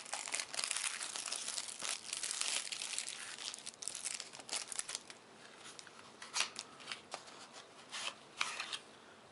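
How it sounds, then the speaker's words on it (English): Packaging for the Chaos Isle: Zombi card game core set is torn open up close, with bursts of crinkling and ripping plastic and paper that come and go, louder early and sparser toward the end. "let's tear into this and see what we got here"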